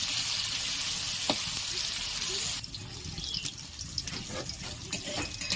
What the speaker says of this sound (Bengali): কাঁচকলাগুলো আমি হালকা লাল করে ভেজে নেব